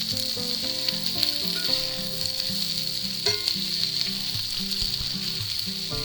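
Home fries with onions sizzling steadily in a frying pan as they are stirred, a constant bright hiss with occasional scraping knocks, and music playing underneath throughout.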